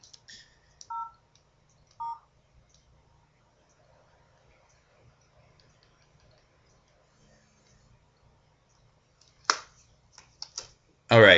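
Two short electronic button beeps from a mobile phone being switched off, heard during a pauper Magic card-game match. A long faint murmur follows, then a burst of sharper clicks and handling noise near the end.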